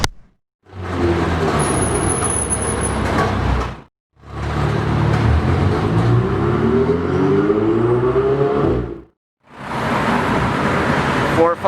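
A Ferrari 458 Spider drives past on the road in three loud bursts, its engine note rising and revving with tire and road noise, separated by brief gaps.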